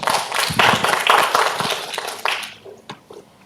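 An audience at a presentation claps for a few seconds, a dense burst of applause that thins to scattered claps and fades out.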